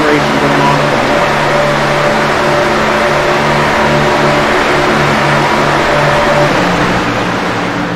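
Race cars accelerating around a track during a team race, loud droning engines with layered tones and revs that rise and fall, blending into a continuous roar.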